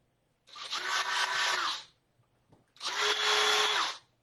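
Two bursts of a power drill whirring close up, each lasting over a second with a short pause between them.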